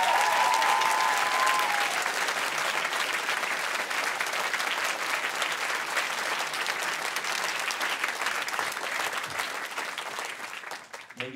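Applause from a high school choir concert audience: a dense, steady clapping roar, loud and sustained for about ten seconds before it thins and tapers off at the end.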